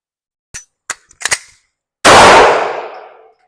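Sharp pistol shots crack close and loud during a defensive pistol practice drill, starting from low ready with a loaded magazine: several quick clicks and clanks, then one loud report with a long ringing decay.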